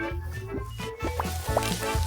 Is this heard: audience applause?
no